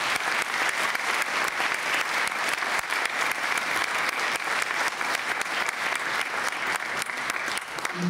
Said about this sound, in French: Je voudrais qu'on les applaudisse parce que c'est eux qui vont le faire.